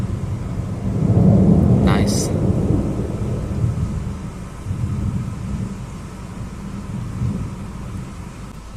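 During a Florida thunderstorm, low thunder rumbles and swells over a steady wash of rain and wind, with a brief sharp crackle early on and someone speaking a single word.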